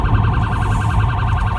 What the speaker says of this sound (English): I'm just going to change the sirens there